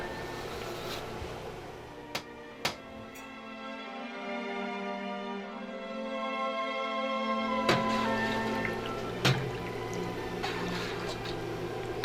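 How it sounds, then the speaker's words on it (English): Hot water poured slowly into a bowl around a submerged mozzarella curd, a soft continuous trickle and splash with a few sharp clinks of the vessel, gentle and close. "I'm going to add the water slowly back into the bowl and around the bowl"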